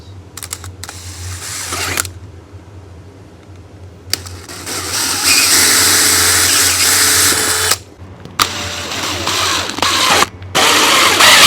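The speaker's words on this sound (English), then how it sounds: "I think we're going to be safe to use this hole saw." A hole saw bores through a box in loud, close grinding bursts of varying length, separated by short pauses, over a low steady hum.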